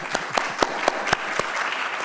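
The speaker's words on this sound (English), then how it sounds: "That was a faculty member who started that applause." Applause at a university media education congress, with a few sharp, loud individual claps standing out at a regular beat over a softer spread of crowd clapping.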